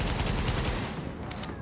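Rapid bursts from an M60 machine gun in The Division chatter in a dense, loud volley, then taper off into quieter scattered shots.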